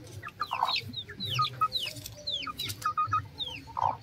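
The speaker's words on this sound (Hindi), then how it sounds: "ये मुर्गी आ गई है।" Backyard hens clucking near a coop, a busy run of short repeated clucks and chirpy calls, with a couple of louder squawks, close and continuous.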